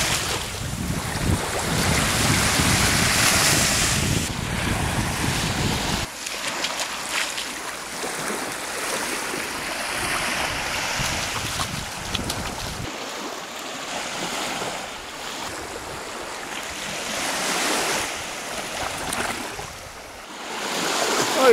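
Baltic Sea waves break and wash along the shore in repeated surges, loud and close, mixed with heavy wind buffeting the microphone and no speech.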